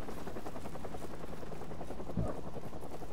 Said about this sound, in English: Helicopters flying everywhere.